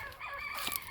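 Chickens on a homestead in cold, rainy winter weather, with a short, faint rooster crow or cackle rising over quiet background.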